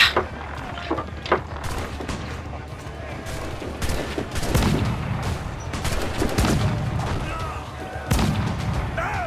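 Cannon and gunfire from the pirate ship battle game Assassin's Creed IV Black Flag, with repeated booming blasts and rattling volleys scattered throughout over a busy, noisy background.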